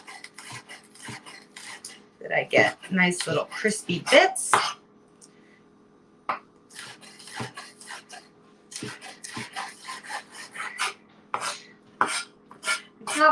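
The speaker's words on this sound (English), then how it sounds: "I'm going to chop this like pretty thinly" A knife slices a shallot thinly on a cutting board in a home kitchen, its crisp, rhythmic taps landing under a person's ongoing talk.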